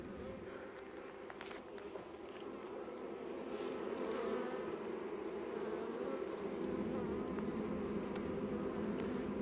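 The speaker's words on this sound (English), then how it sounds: "there's some attacking of between different bees here" Honey bees swarm around a hive in a fallen tree, producing a dense, continuous buzzing hum that swells slightly louder partway through, with individual insects passing close by.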